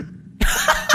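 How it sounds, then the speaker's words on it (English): A single short, rough throat clearing after a brief quiet moment, close to the microphone. "I need to clear my throat"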